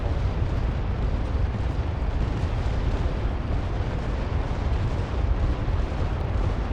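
A bomb explodes in Hell Let Loose Vietnam and leaves a sustained, dense roar of blast and rumbling debris that stays loud and even for several seconds without clear pauses.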